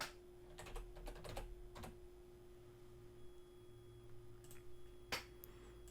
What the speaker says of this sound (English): So I'll just type in leather coat.